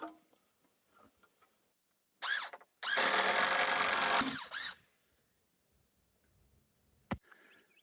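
A power drill whirs in short bursts driving into wood: a brief spin, then a longer steady grinding run of about a second and a half, and a quick final burst, fairly close.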